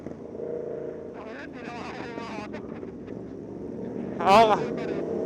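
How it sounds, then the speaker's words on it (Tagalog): A Suzuki GSX-R1000 motorcycle engine drones steadily while riding in heavy traffic on EDSA, under wind rush and a rider's voice, with a brief louder rise near the end. "Ingay ng motor ni Otep."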